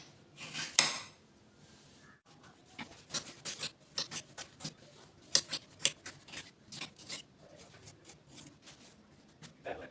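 A knife cuts a snake gourd into medium pieces on a board, giving sharp, close clicks and taps in an irregular run with brief pauses and no voices.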